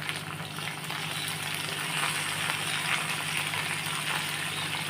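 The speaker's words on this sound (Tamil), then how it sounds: "இதை நல்லா இப்போ கலக்கி நம்ம ஃப்ரை பண்ணிக்கலாம்" Spices sizzle in a pan for poppy seed gravy, a soft, steady frying hiss with a faint crackle, close by and with no voices over it.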